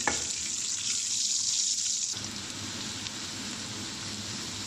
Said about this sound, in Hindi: तेल गर्म हो चुका है, अब इसके अंदर हम प्याज डालते हैं। प्याज को हम अच्छी तरह फ्राई कर लेंगे।